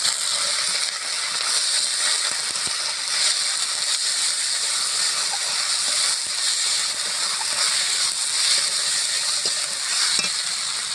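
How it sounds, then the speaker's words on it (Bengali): Dried chillies, cumin and ginger-cumin paste sizzle in hot oil as a tempering for dal, a loud, even, continuous hiss that runs unbroken with faint clicks of a utensil. "আমি এই তেলের মধ্যে একবারে ফোড়ন করে নেব, তার জন্য দিয়ে দিচ্ছি শুকনো লঙ্কা, জিরে, আদা জিরে বাটা।"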